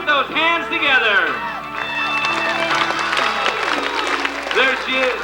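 Sea World stadium crowd at a 1989 dolphin show claps and cheers in a broad, sustained wash of applause, with an announcer's excited voice riding over the crowd noise.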